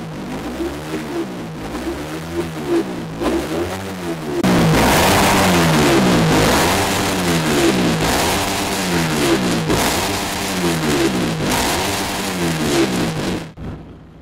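A motorcycle engine fitted with a K56 super head idles and then revs up hard. The pitch rises and falls in repeated swells, loud and close, with a sharp cutoff at the end.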